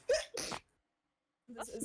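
Two quick sneezes in a row, close and clear, then a brief pause before a person starts speaking.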